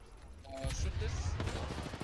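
Video game gunfire bursts out as a dense fusillade of rapid shots, loud and continuous over about two seconds, with players' voices talking in the background.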